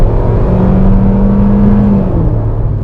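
A 2021 Hyundai Venue accelerating onto a highway, heard from inside the cabin as a steady loud engine drone with a rising tone, holding throughout with no talking.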